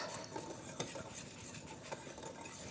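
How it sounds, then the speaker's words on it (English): A whisk stirs dry baking ingredients, including salt, together in a bowl for a pumpkin cheesecake bread batter, giving a steady close scraping and rustling with faint metallic ticks throughout. "And then we just whisk these together."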